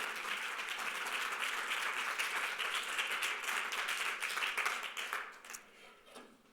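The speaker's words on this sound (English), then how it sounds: "I want you to give a round of an applause" Audience applause at a Davos 2020 session, a crowd clapping steadily at moderate level for several seconds before thinning out and fading near the end.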